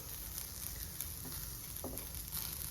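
Bitter gourd frying in a pan, a quiet continuous hiss of oil with faint crackles and a light scrape or two, close but subdued, no talking.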